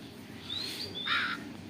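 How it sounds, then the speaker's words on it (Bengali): A cartoon crow gives a couple of short, bright caws, fairly close and clear over a quiet background with no talk. "কাকে এসে যে চাবিটাকে নিয়ে এই যে উড়ে যাচ্ছে, কি পাজি কাক"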